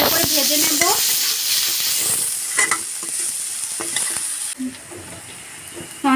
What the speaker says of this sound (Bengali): তো পেঁয়াজটাকে আমরা ভালো করে ভেজে নেব